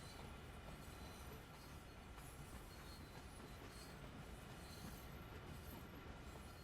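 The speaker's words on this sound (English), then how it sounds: "Got the rest of our train shoving nicely." A freight train of tank cars shoves slowly along the track in a rail simulator, giving a quiet, continuous low rumble of rolling wheels with faint squeals above it, steady throughout and without voices.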